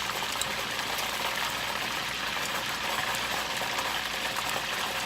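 Chicken wings for sriracha hot wings fry in hot grease, giving a constant dense sizzle and crackle throughout, close and unbroken.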